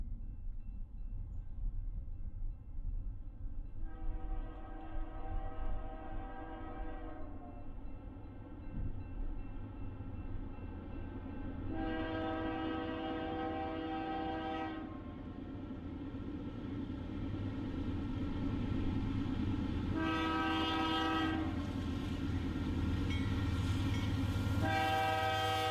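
A CP freight train rolls by with a steady rumble while its horn sounds several long blasts, some drawn out, the last ones loud and close.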